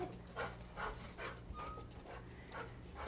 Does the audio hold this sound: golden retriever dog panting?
yes